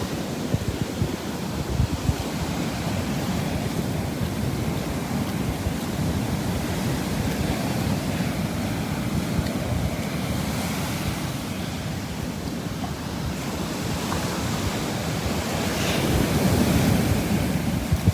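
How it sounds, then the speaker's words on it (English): Ocean waves break on the shore in a steady, continuous wash of surf under wind buffeting the microphone, with the roar building slightly toward the end and no voices. "Look at the waves."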